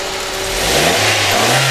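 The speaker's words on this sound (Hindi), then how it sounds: "इंजन की साउंड भी माशाल्लाह काफ़ी बेहतर है" A car engine revs up, its pitch climbing steadily as the throttle opens, loud and close with no voices.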